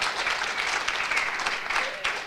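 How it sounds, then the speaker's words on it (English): A conference audience applauds steadily, a dense and fairly loud wash of clapping from many hands with no talk over it. "I want to give a huge vote of huge applause for Leanne"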